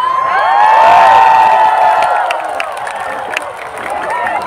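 A large crowd of adults and teenagers at an outdoor religious lecture in Banyuwangi claps and cheers loudly, with shouts and whoops rising over sustained applause, then easing slightly toward the end.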